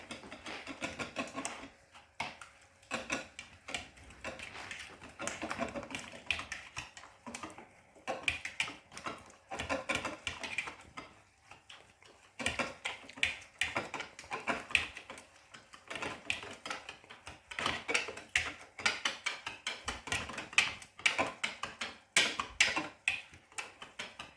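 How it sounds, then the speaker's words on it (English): A whisk beating banana and Nutella pancake batter made from scratch, giving a fast, uneven run of close clicking and scraping strokes against the bowl that continue steadily with only brief pauses. "Now we whisk it together."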